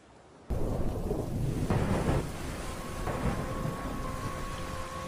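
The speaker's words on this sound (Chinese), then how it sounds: "海上就下起了暴雨" A heavy rainstorm at sea arrives abruptly as a loud, dense roar of rain, with thunder-like rumbling underneath, continuous after a quiet start.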